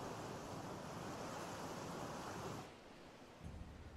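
Ocean surf crashing in a Final Fantasy XIV cinematic, a broad roaring wash of waves that drops away abruptly near the end, leaving a quieter rumble with a brief swell.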